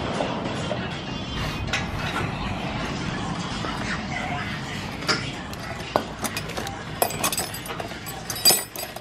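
Metal clinks and tool clatter while the muffler and its bolts come off a 2019 Subaru STI during a catback exhaust install, sporadic sharp taps and rattles growing louder near the end, with people talking in the background.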